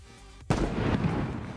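Sniper rifle shot in the video game Battle Prime, a single sharp loud blast followed by a brief rumbling tail.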